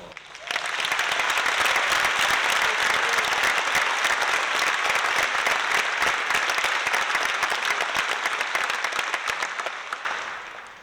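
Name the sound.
audience applause at a rabbit show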